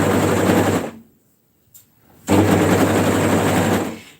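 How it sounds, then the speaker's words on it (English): A fabric overlocker stitches and trims along a gently curved side seam, running in two loud, steady mechanical bursts separated by a silent pause of about a second. "So we're stitching and trimming as we go"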